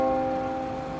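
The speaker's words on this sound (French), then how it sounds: "J'ai rajouté aussi ces sons de cloche" A bell rings with sustained, shimmering tones added as a sound effect, holding steady and slowly fading over a soft noisy background.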